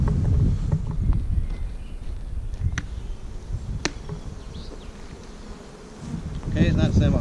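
A dense buzz of drone bees shaken from a hive frame rises and falls near the microphone, with a few sharp knocks and clatters partway through and louder buzzing at the end.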